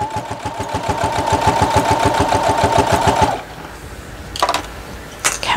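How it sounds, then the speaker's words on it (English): A Brother sewing machine stitches in a fast, even, rhythmic chatter for about three seconds, then stops, leaving a few quiet handling clicks. "I don't know if it's just a brother thing or if all machines have that."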